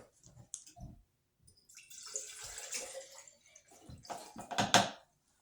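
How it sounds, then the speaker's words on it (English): Tap water runs into a glass jar being prepared for sprouting sweet potatoes, coming in short close bursts, then a pause, then a longer louder gush that swells and stops abruptly. "I'll fill some water up."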